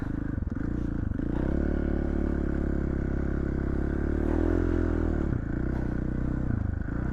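A dirt bike ridden on a snowy road without studs, its engine droning loud and close with shifting revs, plus scraping and clattering from the tires and chassis throughout.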